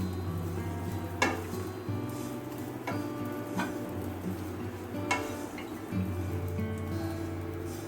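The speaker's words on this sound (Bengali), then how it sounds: "একটু ভেজে নেব লাল লাল করে" Blender-ground bread crumbs fry in ghee and oil in a pan, a quiet continuous sizzle broken by a few sharp clinks of a spoon stirring against the vessel.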